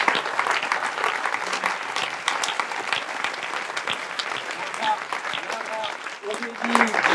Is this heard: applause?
yes